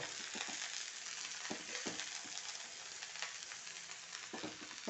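Sliced okra fries in a pan with a steady, close sizzle, broken by occasional light clicks and scrapes as it is stirred.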